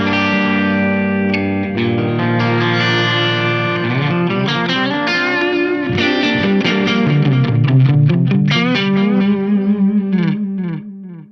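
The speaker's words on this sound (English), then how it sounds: "preset number 1, which is a delay" An electric guitar plays chords and single notes through a delay preset on a Meloaudio MIDI Commander, with repeats trailing each note, steady and fairly loud until it fades out.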